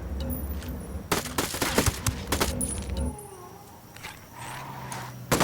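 Burst of gunfire from a squad in the video game Ghost Recon Wildlands, a rapid run of loud, sharp shots for a few seconds, then a quieter stretch of low rumble and ambience, with another shot at the very end.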